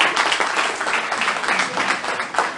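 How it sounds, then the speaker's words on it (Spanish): A burst of applause from a crowd, dense steady clapping that carries on for a couple of seconds without a break. "Un aplauso para mí."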